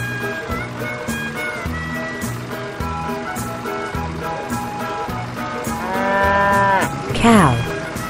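A cow lets out a single loud, drawn-out moo near the end, over a steady rhythmic music bed that runs throughout.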